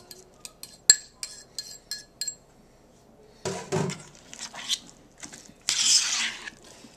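A spoon mixes onion and tomato into guacamole in a bowl, giving a run of light clinks and taps against the bowl and then soft, wet squelching as the mixture is stirred, with no one talking.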